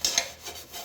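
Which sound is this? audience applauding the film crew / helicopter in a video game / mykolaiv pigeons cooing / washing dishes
washing dishes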